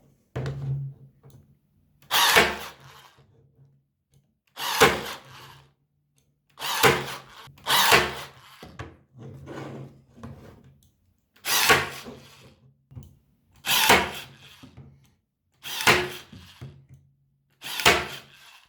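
Einhell TC-CT 3.6 Li cordless stapler firing into MDF, nine sharp mechanical thunks spaced a couple of seconds apart, close and loud against near silence.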